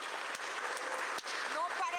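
An audience breaks into applause, a brief burst of clapping from many hands, with a voice speaking briefly over it.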